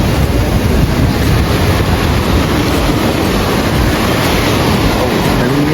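Loud, steady roar of big open-sea surf at San Juan Beach, La Union, a continuous wash of breaking waves and wind buffeting close to the microphone, with no pauses.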